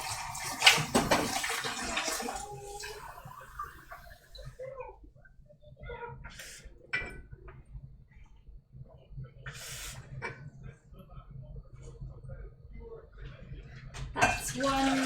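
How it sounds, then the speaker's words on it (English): Warm water runs from a tap into a sink while dishes are washed. Rushing water is followed by scattered clinks and clatters of plates and utensils, mostly moderate and close. "Warm water, going to turn that on there."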